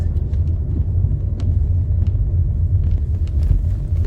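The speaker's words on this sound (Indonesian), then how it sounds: "Ada truk bermuatan berat ya, jalan pelan" A heavily loaded truck labors slowly up a misty mountain road near Dieng, a steady low engine rumble heard from a following vehicle, no talk.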